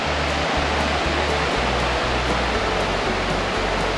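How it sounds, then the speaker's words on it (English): Little river at Elkmont Campground rushing steadily, a dense, loud, unbroken broadband wash of flowing water heard close, with a low rumble beneath. "And this is the little river"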